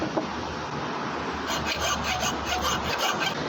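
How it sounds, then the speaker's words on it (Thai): Steady rasping strokes of a hand saw cutting around a 4-inch pipe float fitting, quietly rubbing back and forth in a rough rhythm against a low background hum. "เลื่อยให้รอบนะครับ แล้วก็เลื่อยเลื่อยข้างหลังครับ"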